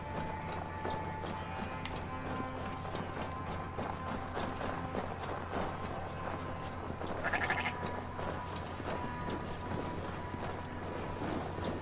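Sheep in the video game Assassin's Creed Valhalla bleat amid a steady ambient game soundscape, with soft hoof clip-clops and one louder bleat near the middle.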